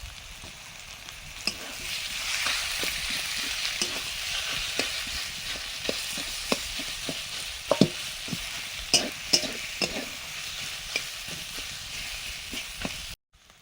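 Boiled potato fries with ginger and garlic in a pan for a chop filling, a continuous sizzle broken by regular clacks and scrapes of a spatula that grow sharper and closer toward the end.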